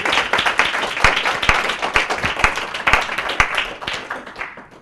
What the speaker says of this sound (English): You're getting clapped.